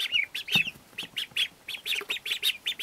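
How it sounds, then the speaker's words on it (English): Young ducklings kept indoors peep in a quick series of high, thin calls, about a dozen short chirps in uneven rhythm, close to the microphone and otherwise quiet. "Ah, ducks, little ducks."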